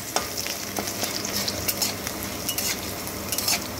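Chopped garlic and dried red chilli sizzling in hot oil while a utensil stirs and scrapes the pan, a steady close crackle with sharper clinks scattered throughout.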